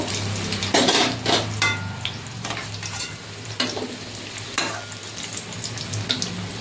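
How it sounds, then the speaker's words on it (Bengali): Potatoes for biryani, tinted with a little food colouring, fry in hot oil with a loud, steady sizzle, while repeated metal spatula scrapes and clinks against the pan come through close. "এদিকে হয়ে গেছে বিরিয়ানির আলুটাও ভাজা"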